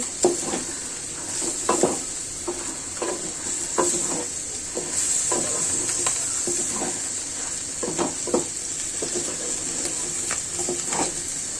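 Katla fish head frying in hot oil seasoned with biryani masala, a steady close sizzle broken by repeated clinks and scrapes of a spoon stirring in the pot.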